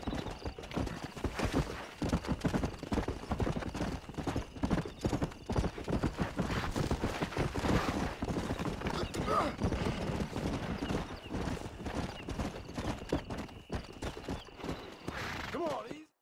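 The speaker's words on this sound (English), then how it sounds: "We got some fine horses." Horses' hooves clip-clop steadily in Red Dead Redemption, a continuous run of close, rhythmic hoof strikes on the ground, with occasional whinnies and faint background ambience throughout.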